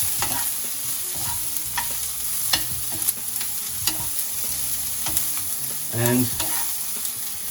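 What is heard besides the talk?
broccoli being stir-fried and sautéed in a pan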